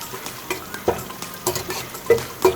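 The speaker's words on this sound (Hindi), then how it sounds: "अब इनको हम हल्का सा फ्राई करेंगे।" Whole spices for matar pulao crackle and sizzle in hot oil while a utensil stirs and taps against the pan in an uneven rhythm, close up.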